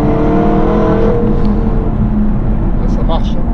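A powerful SVR supercar's engine roars steadily from inside the cabin, a strong continuous drone with rising whine while people talk over it.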